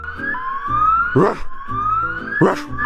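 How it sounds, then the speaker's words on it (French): A loud wailing siren cycles up and down twice, close by in Sanski Most, Bosnia, with a rhythmic rise-and-fall pattern and some background noise. "Vous entendez l'alarme?"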